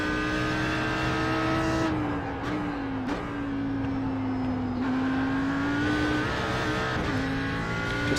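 An Audi R8 GT3 race car in a driving game at Bathurst holds a loud, steady engine drone, its pitch sliding down and back up through gear changes and corners, with no voices.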